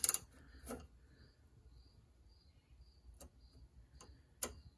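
Small ratchet wrench with a 3/8 drive anvil and a slim head, giving a few quiet, sparse clicks with pauses between them and no talking.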